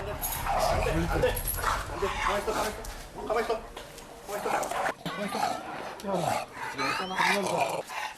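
A dog aggressively charging at a film crew barks and yips repeatedly in short bursts, close and loud, mixed with excited human voices throughout.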